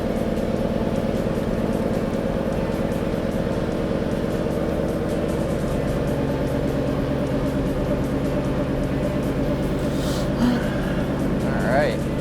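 A factory supercharged car engine accelerates hard under boost, a loud continuous rumbling drone with rising tones toward the end, heard from inside the car.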